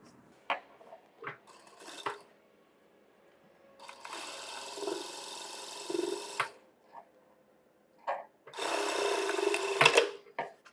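A sewing machine stitches the front cup seam of a blouse during tailoring, running in two sustained, fairly loud bursts separated by pauses with scattered small clicks and fabric handling.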